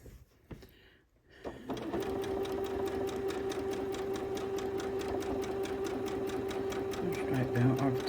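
A sewing machine tacks down the raw edge of a quilt with a little border, running in a steady, rapid, even stitching rhythm close up after a brief start, with a voice speaking early on.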